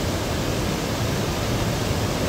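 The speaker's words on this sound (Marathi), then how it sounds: "सांडव्यातून पडणारं पाणी आणि या बंधाऱ्यातून पडणारं पाणी या दोन्हीच्या आवाजामध्ये निश्चितपणे फरक आहे." Water spilling over a lake spillway and weir gives a steady, loud, broadband rush with no breaks and no voices.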